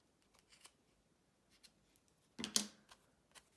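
Scissors trimming the ends of a paper card, a few faint, soft snips close by, followed by one louder, crisp cut and a final light snip in an otherwise quiet room, with no talking.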